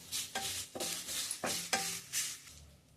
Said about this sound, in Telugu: ఒక హాఫ్ టేబుల్ స్పూన్ ఆయిల్ వేసి వేయించుకోవాలి